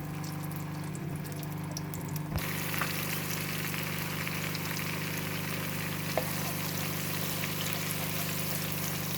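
Chopped onions fry in hot oil for egg biryani, a dense steady sizzle that jumps louder a couple of seconds in as the onions hit the pan. A low constant hum sits underneath.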